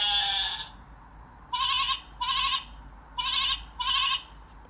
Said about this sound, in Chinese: 接下来是 sheep 绵羊